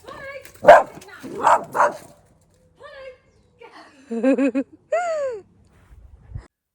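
A few short barks and yips from a dog at the house next door ring out among spoken voices, with brief pauses between them.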